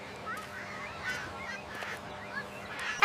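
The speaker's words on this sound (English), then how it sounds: "I see ducks." Ducks on a London park pond give a few faint, scattered honking and quacking calls over quiet outdoor ambience, with a slightly louder call near the end.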